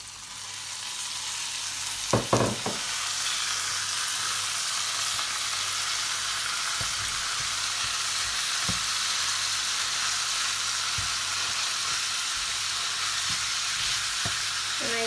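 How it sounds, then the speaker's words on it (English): Ground beef frying with onions in a pan for homemade tacos: a steady, close sizzle of broadband hiss across the whole stretch, with a few scraping stir clicks near the start and scattered pops. "now that our onions are ready, I'm going to add in our ground beef."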